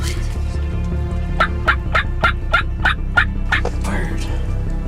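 A wild turkey gobbles in a rapid series of about eight sharp, rattling bursts during a youth turkey hunt in North Carolina, loud and fairly close over a steady low outdoor rumble.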